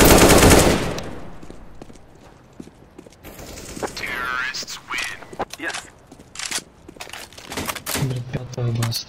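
Gunfire rattles in the video game CS:GO. A loud, dense burst opens the sequence, followed by scattered rapid shots and clicks while a player talks over the action.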